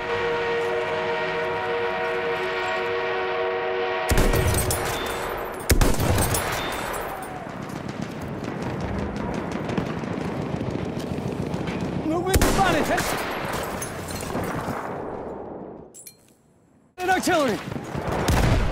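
An enemy machine gun fires in Battlefield 1 during a battle near an armored train, rattling out dense bursts amid loud battle noise, with a horn-like tone at the start and sharp breaks between volleys.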